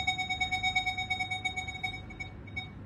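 Nokta Makro Legend metal detector in beach mode responding to an earring held in the air, giving a rapid series of rhythmic electronic beeps that gradually fade and space out, faint and close with no talking.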